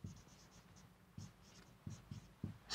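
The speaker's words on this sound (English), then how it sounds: "Let me just write agricultural" Chalk or marker scratches across a classroom board in short bursts, quiet nearby strokes with brief taps and pauses between words being written.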